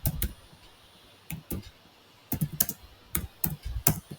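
Clicks on a computer keyboard while typing a command, short irregular bursts of keystrokes with pauses between them, close and fairly quiet.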